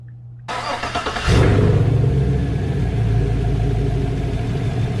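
Engine of a Chevrolet Silverado truck cranking and catching after an oil change, starter whir for under a second, then a loud close rumbling idle that swells and settles to a steady run.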